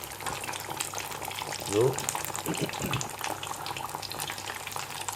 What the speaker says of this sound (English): Remember, guys, I'm frying it on medium heat.